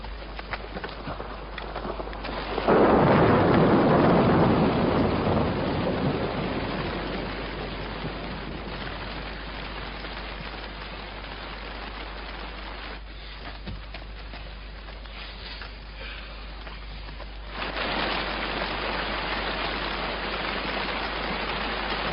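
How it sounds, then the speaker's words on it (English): Steady rain hiss that swells loudly for a few seconds, then settles into a constant downpour, briefly dropping off before rising again; no clear thunder. "It's raining."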